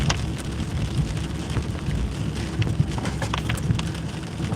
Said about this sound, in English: It is raining like a motherfucker.